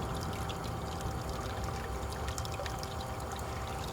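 Steady pour of water running through a GOLDROP gold recovery machine processing pay dirt, a continuous close splashing trickle with no pauses.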